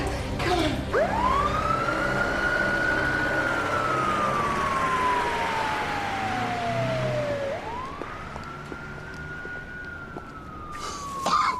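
An ambulance siren wails in long rising and falling sweeps, moderately distant over a rumbling street background, with a second sweep starting near the end as the vehicle draws nearer.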